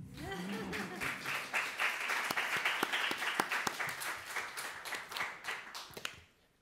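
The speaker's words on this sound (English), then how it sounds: "You may applaud." Audience applause fills a talk-show studio, dense clapping holding steady for about six seconds before cutting off, with a brief murmur of voices at the very start.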